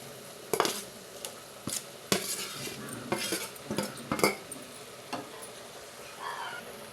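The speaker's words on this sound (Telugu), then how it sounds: "ఈ మసాలా అంతా ఈ ఫిష్కి పట్టేలా బాగా కలుపుకుని మూత పెట్టుకుందాం" A utensil scrapes and clinks against a pan while fish is stirred with salt and chili masala, irregular metallic knocks spread across several seconds over a faint sizzle.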